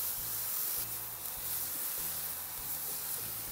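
A seasoned burger patty topped with cheese slices sears on a grill, giving a steady, close, broadband hiss and sizzle that runs unbroken throughout, with a faint low rumble underneath.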